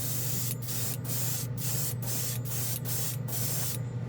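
An airbrush sprays OdenKan Final Chrome paint over a black base in short repeated bursts, about eight quick hissing pulses at steady intervals over a constant low compressor hum, close and with no talking.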